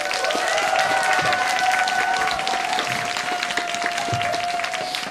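A concert crowd applauds loudly and steadily, dense clapping filling the whole stretch, with a sustained musical tone ringing underneath.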